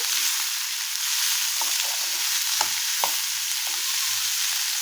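Chopped onion and chilli sautéing in oil in a pan for a Guntur karam dosa filling: a constant bright sizzle with occasional scrapes and knocks of a spatula stirring, close by, with no talking.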